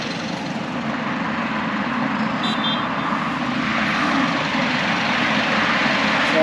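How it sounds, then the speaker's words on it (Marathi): Steady roar of traffic on the Mumbai-Goa highway near a roadside bus stop, a continuous broadband rumble of vehicles rushing past at close range with no pauses, loud and unbroken throughout. "हायवेवरनं गाड्या बघ असल्या सुटतात आहेत"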